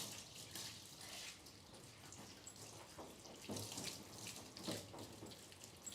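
Water runs steadily while rinsing a dog during a bath at home, a continuous splashing hiss with uneven surges as the flow moves over the coat.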